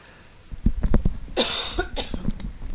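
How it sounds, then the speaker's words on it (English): A person coughs close to the microphone in a quick, ragged burst followed by a few rougher hacking coughs over nearly three seconds, with no speech. "Excuse me while I cough on things."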